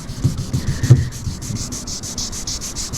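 Wet sanding of the clear coat on a DIY car paint job, a steady repetitive rubbing and scrubbing stroke close by, with sandpaper strokes rasping in a regular rhythm and no voices.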